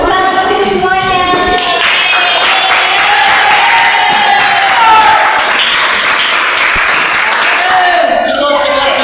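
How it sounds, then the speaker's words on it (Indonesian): A class in a teaching session claps for everyone, a loud, lively burst of clapping with excited voices and a melodic sound threaded through it, lasting around nine seconds. "Tepuk tangan untuk semuanya"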